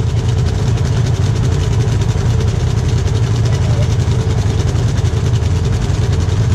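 An ATV engine idles steadily at a muddy park. The low rumble is loud and close, with no break in the throb.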